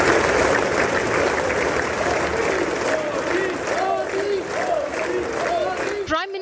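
Lawmakers in the US Congress chamber cheering and applauding an arriving prime minister, a loud, continuous crowd roar with clapping and raised voices that cuts off sharply near the end.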